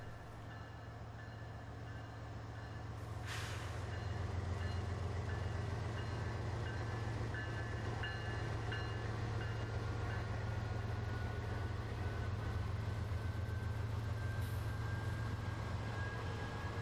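A Canadian Pacific freight train with a pusher locomotive rolls past, a steady loud low rumble of engines and wagons building over the first seconds and holding, with a brief squeal or horn-like burst early on.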